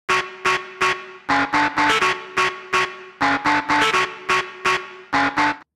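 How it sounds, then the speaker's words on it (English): A 90s rave-style tech house synth stab sample with reverb added in Ableton, fired in a rapid syncopated pattern of loud, punchy, distorted chord hits with echoing tails, no voices. "you could add some reverb"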